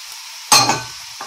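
Beef frying in a pan as curry and turmeric are stirred in: a sudden near sizzle bursts in with clinks and scraping, then fades over about a second, with a brief second stir at the end.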